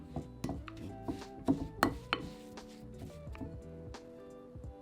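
Ground almonds, butter and golden caster sugar are stirred together in a bowl, giving irregular close scraping and knocking strokes over a steady tonal background.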